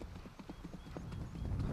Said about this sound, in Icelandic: og bleikálótti hesturinn Váli frá Selfossi.